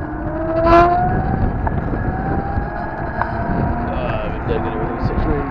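Steady wind noise buffets the microphone while riding a bike on a warm day, a continuous rushing roar with passing traffic hum underneath.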